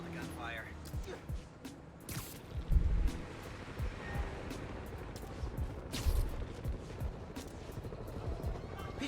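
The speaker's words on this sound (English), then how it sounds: "Follow the gunfire." Scattered gunshots and bursts of gunfire ring out through a busy Marvel's Spider-Man: Miles Morales soundscape, with a couple of louder cracks standing out against constant background noise.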